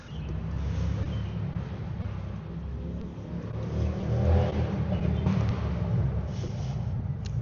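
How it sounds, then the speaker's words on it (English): A car passes outside a garage, its engine rumble and tyre whir rising to a peak midway and then fading, heard from indoors at moderate distance with no one talking. "I don't know if y'all could hear that car driving by"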